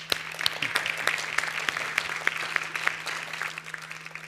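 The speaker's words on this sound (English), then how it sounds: "Give him an applause." A crowd claps steadily throughout, scattered individual claps popping out over a dense, even patter of applause.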